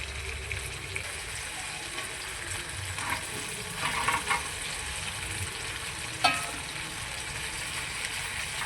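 Pre-fried chicken pieces go into a hot pan for chilli chicken and get stirred, giving a low continuous sizzle with scraping and clatter, a few louder knocks and a sharp clack near the end.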